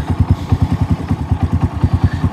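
A Hero Honda Passion motorcycle fitted with a silencer from another bike idles close by, its exhaust thumping in an even, rapid pulse.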